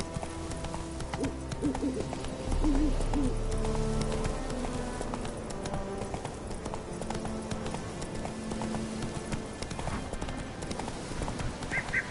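Roach the horse galloping in The Witcher 3, steady rhythmic hoofbeats at moderate volume over ambient game music, with a brief hooting call midway.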